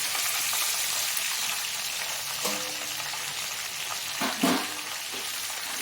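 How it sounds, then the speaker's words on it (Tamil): Ivy gourd (kovakai) cut into long strips fries in hot oil, giving a steady close sizzle with a few louder bursts of crackle and stirring, and no voices. "எண்ணெய் நல்லா சூடாகிடுச்சு கோவக்காய் சேர்த்துக்கணும்"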